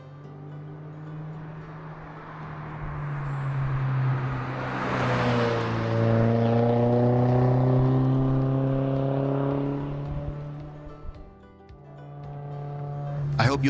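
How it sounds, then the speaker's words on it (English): A car cruises an open mountain back road in Virginia, its exhaust note droning and swelling steadily as it accelerates, with a soft burble underneath and a slight dip before it climbs again. "there's nothing quite the same as driving on an open back road with the background sounds of those gurgles and pops, and the exhaust note of your choice"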